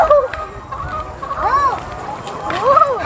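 Chickens on a poultry farm of about 4,000 birds give a few clucking, crowing-like calls, with the loudest around the middle and end, over steady background noise.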